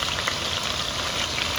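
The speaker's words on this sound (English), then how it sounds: "Once I hear it like sizzling," Chunks of lamb sizzling in hot ghee in a pot for Mensaf, a loud continuous crackling fry close up with no voices.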